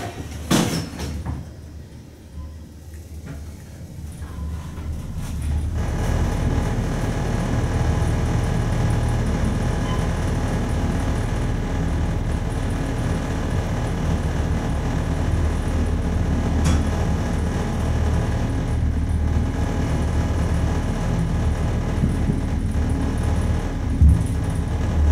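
A modernized Westinghouse traction elevator rides up with a steady low mechanical rumble and hum after the doors close with a thud, continuous and close for about twenty seconds, with occasional faint clicks in the car.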